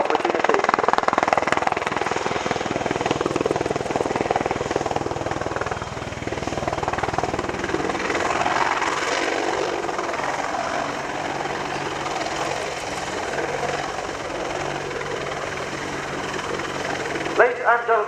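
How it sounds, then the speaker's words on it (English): A British Army Apache attack helicopter flies a display at an airshow, its loud, steady rotor and engine roar sustained throughout, with a brief sharper burst near the end. "the British Army Apache attack helicopter"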